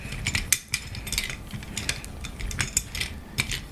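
A mic stand pole being screwed onto its threaded metal base makes light, uneven clicks and scraping ratchet-like ticks, close up and fairly quiet, with no talking.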